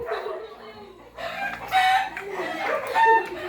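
A chicken clucks and squawks close by in several loud bursts, with quieter background noise between them.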